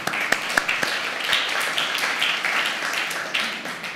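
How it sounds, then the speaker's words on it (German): Audience applause at a German panel discussion, steady dense clapping with a few sharper claps standing out, moderately loud and continuous throughout. "Ja, Applaus."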